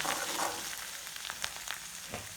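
Onions fry in a pan until they turn red, a dense, even sizzle with small crackles and pops running throughout at moderate loudness.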